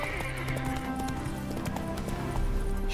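A horse gallops in The Witcher III, with rhythmic hoof clip-clops running steadily and loudly over a background game soundscape, no talk heard.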